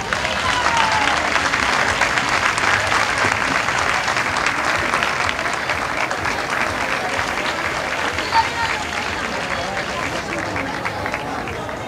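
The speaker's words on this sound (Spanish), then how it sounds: "Ese fuertísimo aplauso para Mila y también para la Junta Directiva de la Hermandad de San Antón." Loud, sustained applause from a large crowd at a cornet and drum band contest during a fair, a continuous roar of clapping with crowd noise mixed in throughout.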